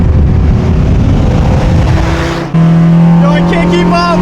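A Nissan 400Z with an upgraded exhaust races and accelerates hard, its loud, close engine roar sustained and steady before a sharp shift near the middle into a higher, droning rev.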